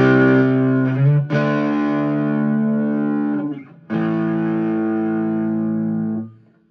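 Electric guitar chords ring out heavily distorted through a Fender Blues Junior tube amp with master volume around three, sustained loud strums with one quick re-strike and a pause before a final long held chord.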